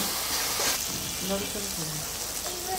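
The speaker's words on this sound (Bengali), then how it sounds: "আমি ধুয়ে রাখা শুটকিটাও দিয়ে দিব। এখন দিয়ে মশলাটার সাথে একটু ভালো করে কষাই নেব।" Dried fish, washed and tossed with salt and spices, sautés in a pan with a steady, close broadband sizzle that runs the whole time, while a voice murmurs faintly in the background.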